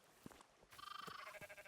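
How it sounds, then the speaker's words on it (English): Sheep bleating in the video game Rising World, a single drawn-out wavering bleat that rises clearly after a few faint clicks, fairly close and alone with no talk. "We got some sheep up here."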